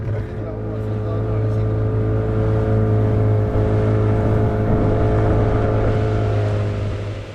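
A two-stroke Yamaha outboard engine runs steadily nearby on a sailboat, a constant droning hum with strong low harmonics that holds throughout, with voices faintly present underneath.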